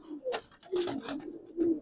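Pigeons at a pigeon seller's, including a young bird, give soft, close cooing notes in short repeated bursts, fairly faint against a quiet background.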